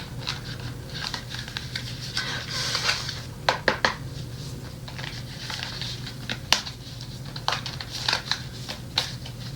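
Tarot cards are shuffled by hand in a quiet room, giving soft repeated riffles and sharp flicking bursts close up, with no talking.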